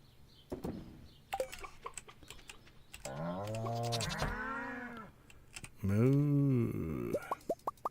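Farm cows moo in Stardew Valley: two drawn-out, tonal moos, the second louder, with scattered soft clicks and plops from the game around them.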